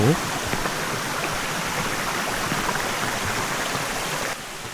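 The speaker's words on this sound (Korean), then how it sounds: "등산로에서 눈앞에 처음 마주하는 비금계곡." Bigeum Valley mountain stream on Jugeumsan, flowing in a dense forest gorge: a steady, loud broadband rush of water that continues unbroken throughout, dropping slightly near the end.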